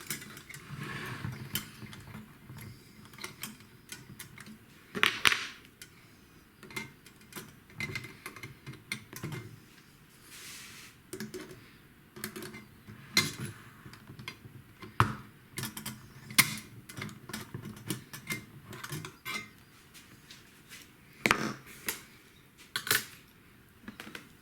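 A metal bracket is worked loose and lifted away after its two bolts are removed during a Slo-mo install, with scattered sharp metallic clinks, taps and rattles spread irregularly throughout, fairly close, no speech.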